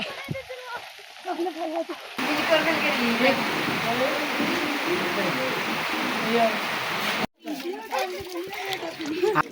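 Steady rushing roar of a river swollen after rain in Barekot village, loud and continuous, with a person talking briefly before and after it.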